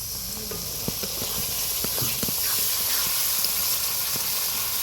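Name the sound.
masala sizzling in pan after adding water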